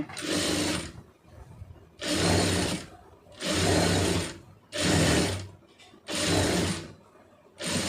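A sewing machine stitching a puff sleeve runs in five steady bursts of a second or so each, separated by brief pauses, loud and close with a whirring mechanical rattle.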